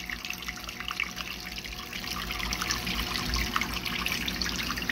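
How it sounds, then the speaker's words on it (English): Water in an indoor pond splashes and trickles continuously at a steady, moderately loud level, a dense running-water wash with no voices over it. "My method of having a little bit of splashing is keeping this moist enough"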